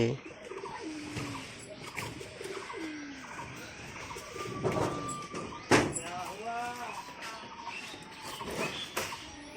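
Pigeons coo softly in a home setting where chicks are hatching, repeated low throaty coos and a few chirps, close and fairly quiet, with a person talking intermittently over them.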